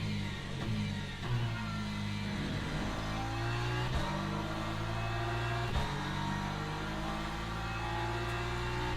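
Race cars in a Le Mans Ultimate sim race, with a BMW among them, produce a steady, loud engine drone with shifting pitch. Revs rise and fall continuously with no talk over them.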